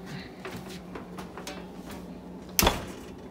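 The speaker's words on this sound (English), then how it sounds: "We're just gonna slide that up into the oven and close the door." An oven door swings shut in a home kitchen with a single sharp bang, cutting through steady low appliance hum and a few faint clicks.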